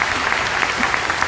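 Sustained applause from an audience at a Jaguar showroom event, dense steady clapping filling the whole moment at even loudness, with a faint murmur of crowd beneath.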